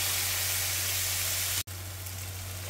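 Tomatoes and onions deep-frying in oil for a chicken curry give a steady, soft broadband sizzle, close and continuous, with a brief dropout near the end and a low steady hum beneath.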